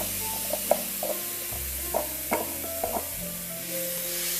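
Chopped onions hit a preheated pan for cauliflower rice and sizzle in a steady broadband hiss, with a few light clinks and stirring knocks scattered through it.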